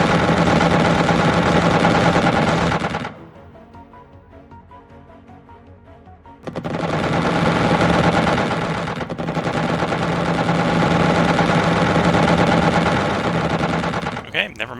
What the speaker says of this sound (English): Just go in Gatling again. Auto cannons.